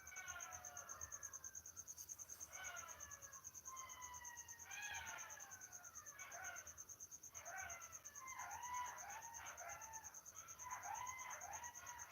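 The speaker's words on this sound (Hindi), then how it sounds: "देखो मेरे यहाँ सियार बोल रहा है।" Several jackals howl together in the distance, their wavering cries overlapping, over a constant high insect whine in a quiet night setting.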